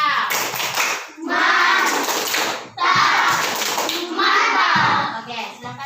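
A group of children in a classroom performs a 'tepuk mantap' clapping cheer, with rhythmic bursts of clapping and chanting voices in three loud waves, children's voices heard throughout.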